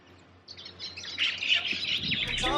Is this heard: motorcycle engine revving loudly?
no